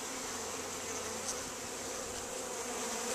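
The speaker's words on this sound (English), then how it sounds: "oh, I got a lot of bees on me" Bees buzz in a constant, quiet swarm drone during a hive installation, with individual insects passing close now and then.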